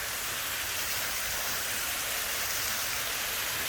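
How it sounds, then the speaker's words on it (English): Water pours along a trough and over the wooden water wheel of the grist mill at the Cable house in Cades Cove, Great Smoky Mountains, making a constant soft broadband rush with no voices. "Now the water keeps going in that trough all the way down here to this right here, the grist mill,"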